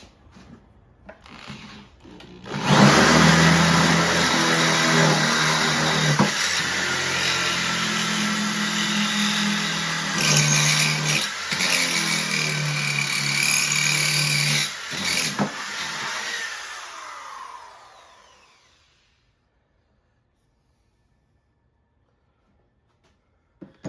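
A Troy-Bilt pressure washer engine starts and runs loud and steady for about fifteen seconds, its tone dipping briefly a few times before it shuts down and fades into silence.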